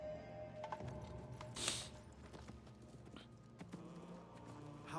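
Horse hooves clip-clop at a walking pace amid a busy background, with faint mechanical creaks and a brief bright jingle partway through.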